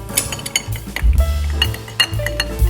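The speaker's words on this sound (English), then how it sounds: "And we'll start stirring this up." An ice cube clinks and rattles against a glass as a Sazerac cocktail is stirred, a quick run of bright close taps and scrapes with a few louder knocks.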